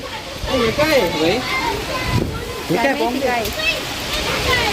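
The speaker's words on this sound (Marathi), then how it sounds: "काय किती बापरे किती जोरात पाऊस" A constant heavy rush of rain with hail pours throughout, loud and close, while several people talk and exclaim excitedly over it.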